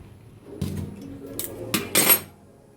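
A metal cooking pot of softened bread boiling in water is lifted off the stove, giving a few scattered clanks and scrapes, with a sharper rattle of metal on metal near the end, close by.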